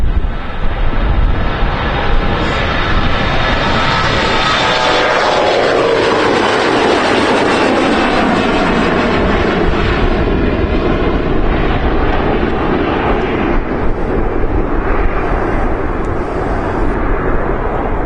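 A Turkish Airlines A330-300 airliner departs Amsterdam Schiphol Airport with a loud, sustained jet roar, its rising-then-falling engine whine sweeping past amid heavy wind rumble over about eighteen seconds.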